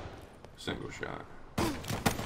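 Gunfire in a Call of Duty Black Ops 3 session, a few sharp loud shots in a brief burst, with a voice talking alongside.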